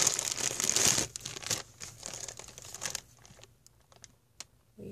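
Taped paper package of handmade paper flowers being unwrapped up close, with loud crinkling and tearing of paper and tape in the first second, then quieter rustles and scattered crackles trailing off.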